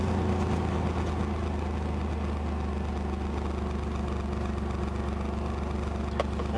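An Oldsmobile Bravada engine idles steadily at about 1,000 rpm, a continuous low, even rumble heard up close with no talking over it.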